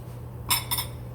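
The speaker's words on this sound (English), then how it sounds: "Scooping the pineapple out" A spoon scooping the flesh out of a pineapple, giving two quick close scraping, clinking strokes over a steady low hum.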